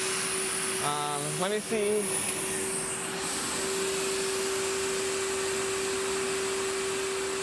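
A MetroVac vacuum cleaner runs with both motors, a loud steady whine with a strong constant tone, while a voice speaks briefly over it near the start.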